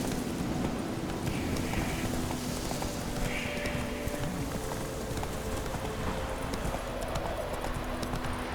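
Horse hooves galloping in The Witcher 3 video game, a steady fast clip-clop rhythm running throughout, with rain-like ambient noise and a faint background tone.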